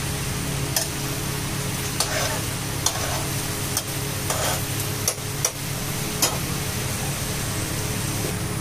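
Chicken gravy sizzles in a pan while a spoon stirs and mixes it, giving a continuous hiss with repeated scraping strokes and a few sharp clinks, close and steady with no voices.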